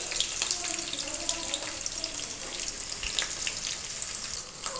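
Onions and green chilies frying in hot oil, a steady close sizzle with crackling pops running throughout without pause.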